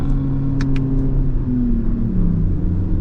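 Lexus RX engine droning steadily from inside the cabin while driving, a low continuous hum with a gently falling pitch, plus a couple of brief clicks early on and no talk.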